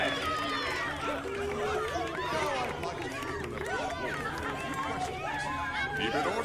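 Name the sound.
crowd in video game Minecraft: Story Mode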